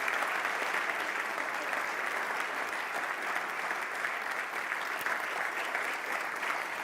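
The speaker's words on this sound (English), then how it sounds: "quickly give her a big round of applause for having been here, for having instigated it with your team" Steady, dense applause from a conference audience on entrepreneurship in Africa, sustained at an even level throughout with no break, crowd-wide and close.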